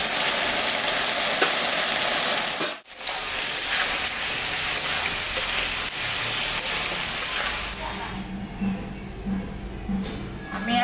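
Ginger, cumin and green chili paste frying in a pan for a leafy green curry, a loud, dense, rain-like sizzle that runs throughout, broken by one brief dip and a few stirring scrapes near the end.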